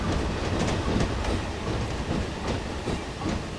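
A train in Train Simulator 2015 on a Somerset-to-Dorset route rumbles along at speed, a continuous loud rolling roar with rhythmic clickety-clack of wheels over rail joints, heard alone without talk.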